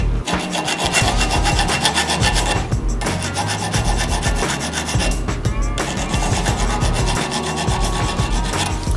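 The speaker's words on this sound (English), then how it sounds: "I'm quickly just going to finish off these edges with a quick file" A hand file rasps steadily along the edges of a copper wristband clamped low in a vise between soft jaws, the loud scraping strokes continuing almost without pause, with no talking.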